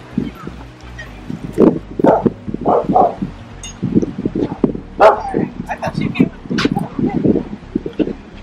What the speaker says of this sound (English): There are so many dogs.